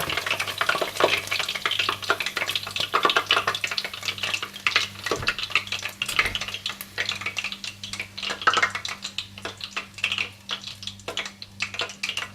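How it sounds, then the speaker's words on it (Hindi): Chicken pieces fry in hot oil in a home kitchen and are stirred in the pan. A steady crackling sizzle runs throughout under irregular scraping and clicking from the utensil, with a low hum in the background. "बाकी चिकन भी इसी तरह से फ्राई कर लीजिएगा"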